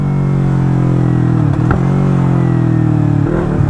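A Yamaha YZF R3 motorcycle engine revs loudly and close by, a sustained throaty drone with a brief dip and surge midway and another near the end.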